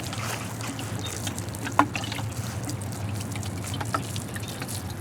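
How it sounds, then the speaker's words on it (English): A budget watering can pours water onto a bed of radish plants in a garden, giving a soft, steady trickle that runs for the whole stretch at moderate volume, with no talking. "I'm going to go ahead and water the radishes and give them a nice even drink with my trusty budget watering can."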